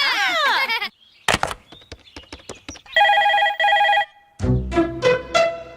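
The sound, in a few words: telephone ringing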